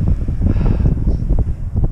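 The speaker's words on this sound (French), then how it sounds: "On a nos 25 nœuds de vent, 45 nœuds en rafale" Strong gusting wind of around 25 knots, gusting to 45, buffets the microphone at Cap de la Chèvre on the Crozon peninsula in Brittany, a loud, rumbling low roar that swells and dips without pause.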